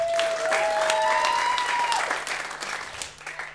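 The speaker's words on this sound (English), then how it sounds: "How about a round of applause for all the other comics you saw up here tonight?" A comedy club crowd applauds the evening's stand-up comics, dense clapping with whistles and whoops early on, then thinning toward the end.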